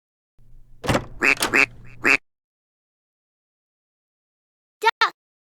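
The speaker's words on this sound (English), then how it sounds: "Duck." A cartoonish duck quacks twice in a quick pair near the end, clear and close, after a stretch of sung children's music fades out.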